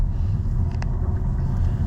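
Skoda Enyaq RS electric car under full throttle, a loud, steady low rumble of road and motor noise heard from inside the cabin, with no talking.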